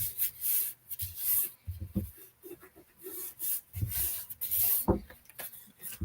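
Adhered paper on a handmade card is rubbed down in short, close, dry scraping strokes, bursts of friction separated by brief pauses.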